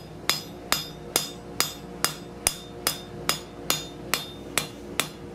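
A hammer strikes hot metal while forging a double bevel leaf scroll, in a steady rhythm, about two sharp ringing blows per second, thirteen in all, close and loud.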